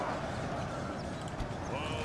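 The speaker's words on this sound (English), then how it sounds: "These nomad horses." Nomad horses gallop in a video game battle, a steady dense rumble of hooves under continuous battle noise, with a voice talking over it.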